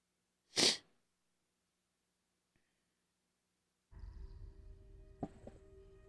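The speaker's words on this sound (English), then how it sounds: "gotta sneeze." A single loud, close sneeze bursts out alone, followed by quiet, then low rumbling background noise with faint tones.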